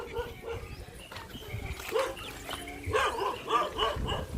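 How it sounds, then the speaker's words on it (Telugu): Dogs barking in a series of sharp, repeated woofs, growing louder and more frequent toward the end, with some voices in the background. "ఈ కుక్కలు ఎంత కరుతున్నాయిగా"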